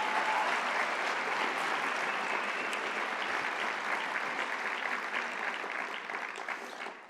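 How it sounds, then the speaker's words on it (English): A large university audience applauds steadily at a lecture event, dense sustained clapping that holds throughout and tapers slightly at the end. "And y'all are applauding."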